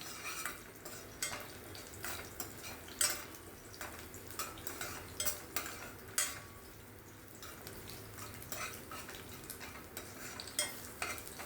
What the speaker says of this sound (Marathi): सालीसकट ठेचलेला आहे मी तो घालते मी आणि तो तेलात थोडा परतते